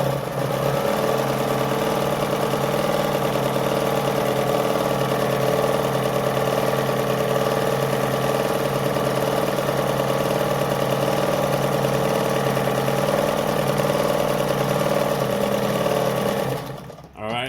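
A Jones model 556 sewing machine runs steadily for about sixteen seconds while sewing a decorative design into fabric, a close, even mechanical hum that stops abruptly at the end.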